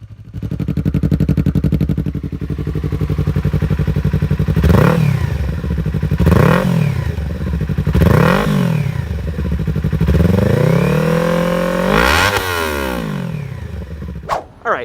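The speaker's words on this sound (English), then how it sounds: "here's what an R3 sounds like with a modded exhaust on it." Yamaha R3 motorcycle fitted with a modified aftermarket exhaust, idling with a rough burble and then blipped through four or five sharp throttle revs that rise and fall, ending in a longer rev and a clunk, close and loud.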